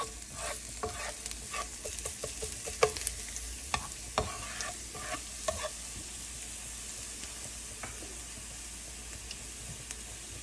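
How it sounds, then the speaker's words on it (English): Three chopped garlic cloves stir-fry in a tablespoon of oil, giving a quiet, steady sizzle punctuated by irregular spatula clicks and scrapes against the pan. "I'm going to stir fry 3 chopped cloves of garlic"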